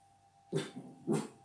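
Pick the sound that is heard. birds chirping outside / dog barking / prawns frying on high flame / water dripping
dog barking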